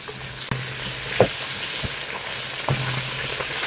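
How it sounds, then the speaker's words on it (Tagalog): Bell pepper fries briefly in a hot pan, a steady close sizzle with a few soft stirring knocks and scrapes, no voices. "Pirituhin lang natin siyang saglit."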